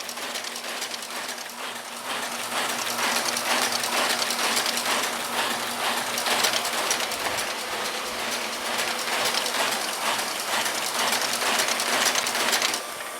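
An MS 500 mailing system machine runs at speed, giving a rapid, steady mechanical clatter that carries on unbroken and fairly loud, with no talking.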